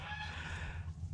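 Young chickens and roosters in a backyard flock after hurricane conditions, clucking briefly over a steady low background hum, moderately faint and close.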